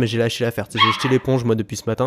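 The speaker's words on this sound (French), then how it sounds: "je suis désolé pour le chien qui aboie derrière" A dog barks and yips in the background in quick repeated bursts while someone talks steadily in the foreground, the barking partly mixed into his speech.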